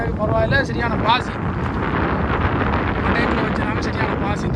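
Strong wind buffets the microphone aboard a small fishing boat at sea, a loud rumbling roar throughout, while someone talks over it near the start and the wind carries on continuously.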